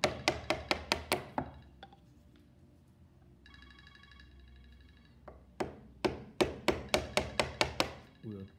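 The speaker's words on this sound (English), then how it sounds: "probably chiseling between 1 and 2 millimeters each time" A chisel is struck into wood for a rebate butt joint in quick sharp taps, a burst of about eight blows, a pause with faint ringing, then another rapid series of close, crisp hits.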